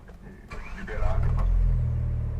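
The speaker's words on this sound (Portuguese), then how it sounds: "O ronco do motor faz até essa borbulha." A Fiat Pulse Abarth's engine cranks and catches, then settles into a steady, close, bubbling low rumble that builds and holds, with a few faint clicks at the start.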